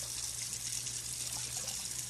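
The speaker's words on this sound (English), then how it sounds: "then you pour that rice water off" Starchy water from cooked rice is poured off into a sink, a steady hissing gush of liquid with a low hum underneath, no voices.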